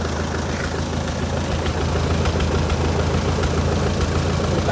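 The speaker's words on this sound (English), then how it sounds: "Backfiring like all engines should" A vintage Allis-Chalmers forklift engine runs steadily at a rough idle close by, with a few sharp backfire pops breaking through the continuous low rumble.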